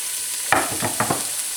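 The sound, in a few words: Spanish onion frying in hot olive oil in a pan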